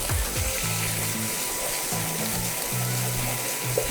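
Caramelized onions in a frying pan sizzle and hiss steadily as liquid hits the hot pan for deglazing, close and continuous with watery bubbling throughout.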